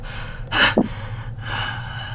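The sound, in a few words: man coughing, voice-acted in Planescape Torment playthrough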